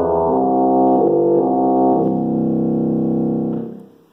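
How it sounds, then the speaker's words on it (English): Deep buzzing bass trombone reed pipes from an organ's pedal board sound a low, rich, sustained chord, slightly shifting once midway before fading out, heard alone and up close. "We also have some reed stops in the pedal board, like the bass trombone, which sounds kind of like this."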